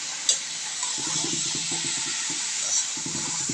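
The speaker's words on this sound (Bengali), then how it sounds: "কপিগুলো দিয়ে সুন্দর করে নাড়াচাড়া করে নিতে হবে" Cabbage sizzles and hisses steadily in a frying pan with egg, a spatula scraping and stirring in soft repeated strokes beneath the constant frying noise.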